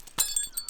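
An overpowered airsoft sniper rifle shot shatters a glass cup padded with shaving foam: one sharp crash followed by a few bright, ringing tinkles of glass fragments, close and fairly loud.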